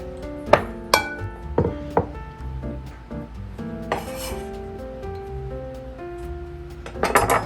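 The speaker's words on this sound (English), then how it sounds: "I'm just gonna stir this in to the pumpkin and milk mixture." A spoon stirring sage into a pumpkin and milk mixture for cornbread, heard as repeated sharp clinks and scrapes against a bowl in an irregular rhythm, close and fairly clear, with no talking.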